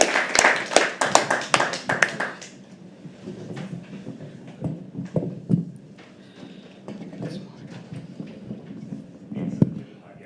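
A live audience at a poetry open mic claps as a poet walks onto the stage, a burst of sharp, dense handclaps for about two seconds that thins into scattered taps and soft room murmur.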